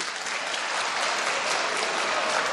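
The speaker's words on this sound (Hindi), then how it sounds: "एक बार ज़ोरदार तालियां बजाकर मेरी हौसला" At a mushaira in Bhiwandi, a large audience breaks into loud, sustained applause, a thick wash of clapping holding steady throughout.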